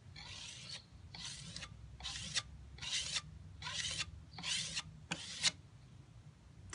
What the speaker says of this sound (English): I need a better scraper thingy.